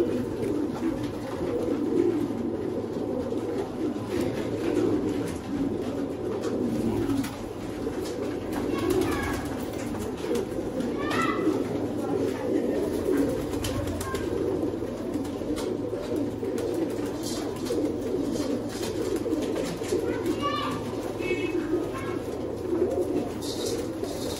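Sialkoti pigeons coo continuously in low, rolling calls, several birds overlapping close by, with occasional higher chirps from other birds in the background.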